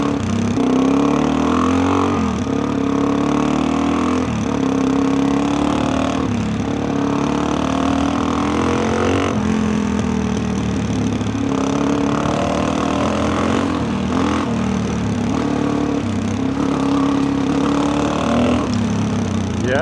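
A lightweight adventure motorcycle's engine pulls steadily under throttle on snowy forest backroads, a loud continuous mid-pitched drone that rises and falls slightly with no stutter, close and alone without talk.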